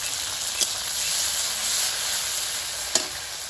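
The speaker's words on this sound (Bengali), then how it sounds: "মশলাটা ভাজা হয়েছে এবার তরকারিটা দিয়ে দেবো" Spices sizzle in hot oil in a pan: dried red chili, panch phoron, bay leaf, chopped garlic, cumin, green chili, onion and tomato, giving a steady close hiss broken by two brief sharp clicks.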